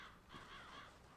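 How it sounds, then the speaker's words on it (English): Birds caw faintly in the Dark Souls 3 video game, a soft, distant cawing that swells briefly mid-way over a steady hiss of ambient background. "Birds."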